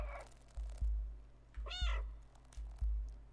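A single clear cat meow from the video game Stray, heard alone against a rhythmic low thumping music beat and faint game ambience, with no speech.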